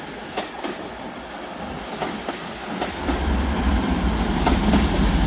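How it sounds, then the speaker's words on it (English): Two coupled TransPennine Express class 185 diesel trains arrive at a station, a rumble building steadily with rhythmic wheel clicks and a few faint squeals, close and growing louder. "Arriving in now, I believe, are a dual pair of TransPennine Express 185s from Liverpool Lime Street to Cleethorpes."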